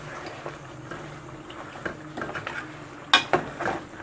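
A spoon stirring mutton qorma with green chillies and coriander in a pot, soft scraping with a low sizzle and then several clinks of metal against the pot near the end, with no speech.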